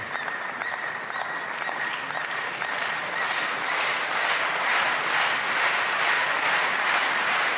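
A crowd at a table tennis world championship mixed doubles match applauding after a rally, a dense, sustained clapping that swells slightly toward the end, with no talk over it.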